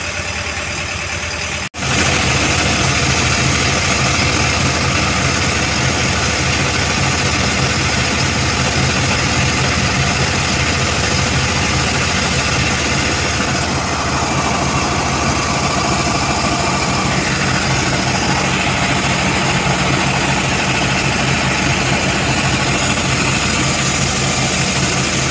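A boat's engine runs in its engine room, a loud, constant mechanical drone with vibration that continues unbroken after a brief cut near the start, with no voices.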